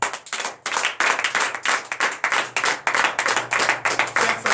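A church congregation claps loudly at a night deliverance service in Benin, a dense, steady wash of many hands sustained for several seconds with no talk over it.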